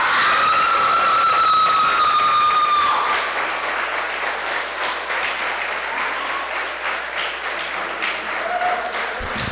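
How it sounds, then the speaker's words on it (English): Graduation audience at Northshore Recovery High School applauds as the seniors stand and face them, a loud, dense wash of clapping with a bright whistle over the opening seconds, easing slightly but continuing throughout. "give them a round of applause for getting you to this day"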